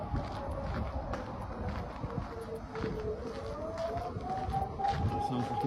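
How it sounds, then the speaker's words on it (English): Air raid siren wailing at night in Kharkiv, Ukraine, a faint distant rising tone beneath steady outdoor rumble and wind noise. "I feel like I'm actually in the air raid siren now"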